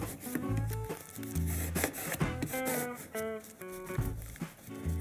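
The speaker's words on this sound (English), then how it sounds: "I'm going to stick it down with my fingers and then burnish it again." Fingers and a tool rub and burnish a vinyl sticker onto a journal by hand, giving quiet, close scraping strokes in short repeated passes.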